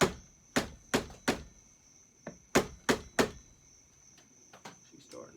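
A tool taps on one side of a flywheel crank seal on a Pioneer farm chainsaw, giving crisp metallic knocks in quick groups of three with softer taps between, close up over a faint steady whine.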